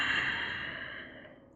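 Breathing during a yoga pose, a single long airy exhale that starts clearly and tapers away over about a second and a half, close and alone.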